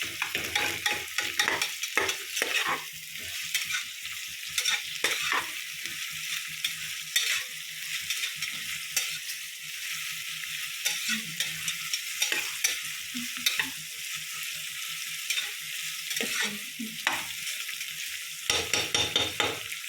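Onions for biryani sizzle and crackle steadily in a hot pan, stirred often with bursts of scraping and clatter, close and continuous with no talk.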